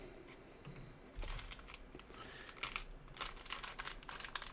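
A Ziploc bag is opened with faint crinkling and sharp plastic rustles, quiet and close, in brief bursts with short pauses between.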